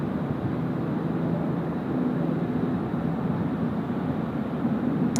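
Velocity 640 airliner taking off from runway 16 right at Sydney Airport, heard as a steady, broad, distant engine roar that holds unbroken throughout, with no talking.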